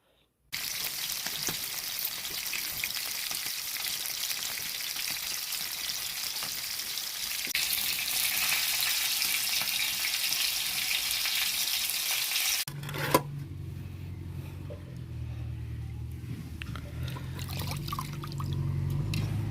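Masala-marinated seafood pieces frying in oil, a continuous close sizzle that swells partway through, then drops to a lower bubbling hiss with a low rumble after a brief clunk.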